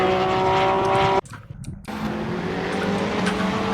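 Porsche race cars roar in a racing game's Belgian Grand Prix, a loud sustained engine drone that cuts out abruptly for a moment, then resumes as a steady high-revving whine.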